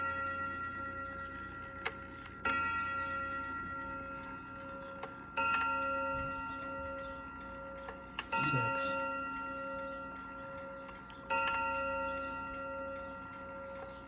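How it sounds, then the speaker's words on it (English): A Sessions Westminster electric clock strikes the hour, with several evenly spaced ringing bell strokes that decay slowly and mechanical ticks between them, heard close and clear. "going to chime an hour"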